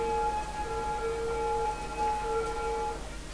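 Ambulance sirens in the city-building game Cities: Skylines hold steady, sustained electronic tones for about three seconds at moderate level with no speech, then fade slightly at the end.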